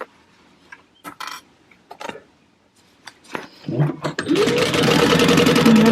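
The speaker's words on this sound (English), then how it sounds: "And then I'm just going to sew along my gusset." A sewing machine starts up after some handling noises and then runs steadily and briskly while stitching along a fabric gusset, close and fairly loud.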